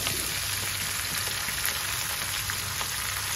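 Sliced mushrooms sautéing in a hot pan for mushroom chilli dry, a continuous bright sizzle that stays steady and close throughout, with no voices.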